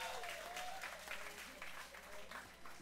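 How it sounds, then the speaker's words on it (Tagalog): A church congregation claps in a faint, continuous wash of applause that carries on for a few seconds, with a voice sounding faintly over it. "malakas na palakpak"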